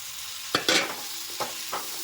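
Small fish with a little turmeric frying in a pan, giving a few short, separate bursts of sizzle and scraping with quiet gaps between them.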